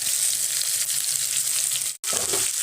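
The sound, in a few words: chopped onion and green chillies frying in hot oil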